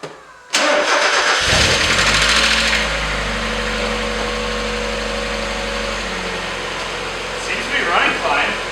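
A Mazda Miata cranks briefly, fires, and settles into a steady, loud idle close by, with a person talking faintly near the end.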